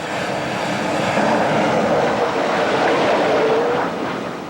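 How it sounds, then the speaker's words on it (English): A loud, steady roar of jet aircraft engines launching from the deck of the aircraft carrier USS Kennedy, swelling and then easing off slightly, with no voices. "Aircraft all over the place. Launching, recovery."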